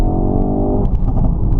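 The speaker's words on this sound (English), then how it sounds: "Nice crackles from the exhaust." Ford RS hatchback, newly run in, pulling hard under acceleration with a loud, close engine roar and a burst of exhaust crackles and pops toward the end, no speech.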